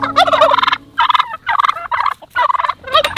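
Turkeys on a farm gobble in repeated loud, close bursts, with brief gaps between the calls and no talking.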